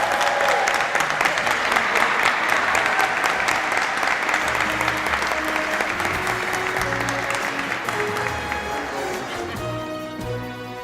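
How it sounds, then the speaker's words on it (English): Sustained applause from a large audience at a 2018 construction management graduation ceremony, loud and steady for about eleven seconds and easing slightly toward the end. "Help me congratulate our graduates again with a round of applause."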